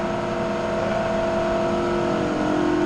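The ChevStang car's engine holds a sustained, steady high-revving tone during a dyno pull, loud and continuous throughout with no voices.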